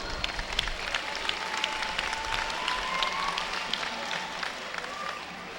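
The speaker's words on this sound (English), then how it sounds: "A big round of applause for all of you." An outdoor crowd at a summer camp event claps steadily, a broad rattle of hands with a few sharper close claps, and faint cheering or whistles mixed in throughout.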